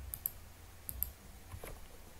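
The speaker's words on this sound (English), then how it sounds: "We have to type it manually." Clicky keys tapped on a computer keyboard while typing code by hand, a few quick separate clicks and light taps, quiet and alone.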